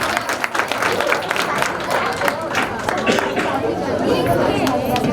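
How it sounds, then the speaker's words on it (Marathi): Dense applause and crowd chatter fill an engagement and sangeet celebration continuously, loud and close, with voices mixed into the clapping throughout. "जोरदार टाळ्या"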